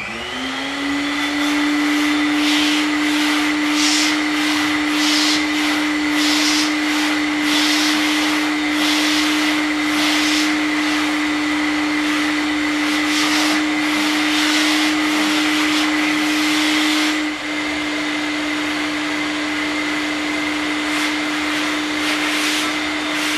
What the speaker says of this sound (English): get the vacuum cleaner out and vacuum the plate off and the table